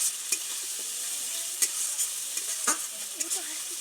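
Spices frying and being stirred in hot oil for a Bengali vetki fish curry: a steady soft sizzle with occasional sharp scraping clicks from stirring, close and alone without speech.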